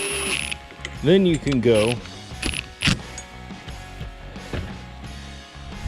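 A hand ratchet clicks in quick close bursts while tightening bolts on the power steering pump of a 2003 Subaru Outback Legacy, with clanking metal and someone talking throughout.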